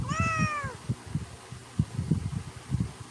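A cat gives one clear, close meow with a falling pitch near the start, followed by soft rhythmic thumps and rustling close to the recorder.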